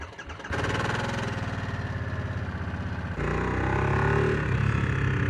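A 2023 Harley-Davidson Nightster motorcycle engine cranks briefly, catches and settles into a loud, close, throbbing idle with a rapid steady pulse, then the revs lift slightly toward the end.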